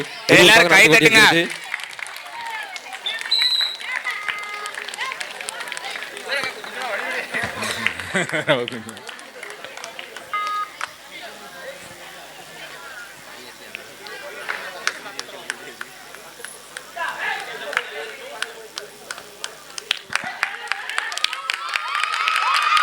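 Spectators at a 2024 village kabaddi tournament match between Netaji Sports Club and Singampatti C cheer and clap. A loud burst opens the clip, then the crowd noise stays lower and rises again near the end, under steady commentary on a loudspeaker.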